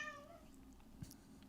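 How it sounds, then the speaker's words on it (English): A single short cat meow sounds faintly indoors at the start, followed by quiet room noise and a small thump. "Meowing, that's a cat"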